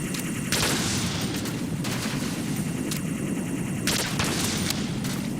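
AK rifle firing in Metal Gear Solid 2, heard as a steady stream of loud game gunfire with a few brighter bursts standing out, continuous across the whole stretch with no talk.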